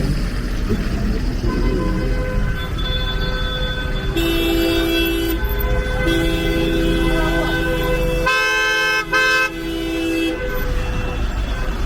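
Busy street traffic in Abidjan's Abobo and Yopougon districts during a Côte d'Ivoire football match, with repeated loud car horn toots and long honks over a steady engine rumble.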